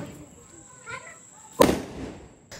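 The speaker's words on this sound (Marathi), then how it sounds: "तर वेळ होती बाहेर येऊन फटाके फोडायची" A sharp firecracker burst cracks out after a stretch of quiet outdoor background during a Ganesh and Gauri festival celebration at home, followed by a crackling tail and another pop at the very end.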